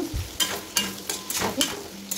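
Cut potatoes sizzle in a hot pan while a utensil scrapes and stirs them in quick, repeated strokes, close and fairly loud.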